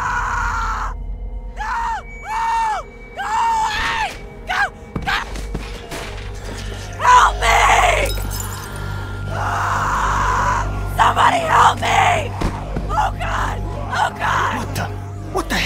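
Screaming in The Walking Dead video game, Episode 3 'Long Road Ahead': a series of voiced cries and gasps rise and fall, mixed with thuds, groans and heavy breathing in a tense scene.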